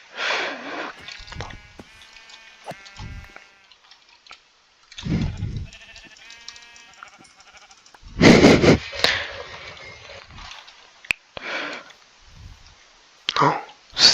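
Sheep in the Minecraft video game bleat a few times among game sounds, heard under a person talking in French.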